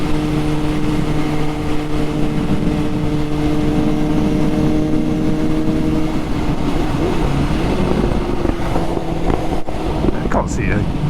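A Suzuki GSX-S750 motorcycle fitted with a Dynojet Power Commander 5 pulling in fourth or fifth gear, a steady droning engine note rising in pitch under heavy wind rush, with a rider talking.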